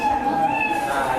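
A Scratch cat sprite's recorded meow plays from a computer program, a single sustained tonal meow lasting about a second, fairly loud and clear.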